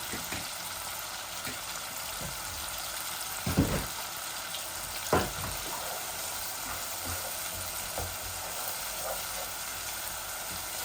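Coriander, cumin and chili spices sizzle steadily in hot oil for a chicken curry, a close continuous frying hiss broken by a few soft stirring knocks.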